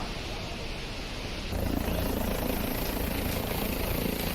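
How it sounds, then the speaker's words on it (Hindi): A helicopter heard as a dense, continuous rotor and engine roar, steady at first, then growing louder and fuller partway through and holding at that level. "धीरेन्द्र शास्त्री हेलीकॉप्टर से यहां पहुंचे"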